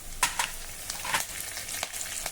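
A pinch of asafoetida and curry leaves hit hot oil in a tempering, giving a bright, crackling sizzle with sharp spits and pops scattered through it and no voices.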